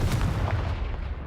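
A Confringo blasting spell from Hogwarts Legacy detonates in a short, booming burst with a sharp crack, then a rumbling decay that fades over about a second.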